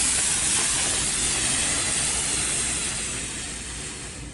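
Steam hissing from a Bissell PowerFresh Lift-Off Pet steam mop, heard as a steady, broadband close-up hiss that thins slightly toward the end as the unit is switched off.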